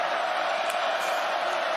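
Sustained roar of a stadium crowd at a Georgia Bulldogs versus Missouri Tigers college football game, a dense, steady wash of noise with no breaks.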